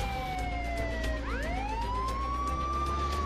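A police siren in the game Contraband Police wails, its tone sweeping upward and holding over a constant low engine hum, with a slightly synthetic, game-like quality.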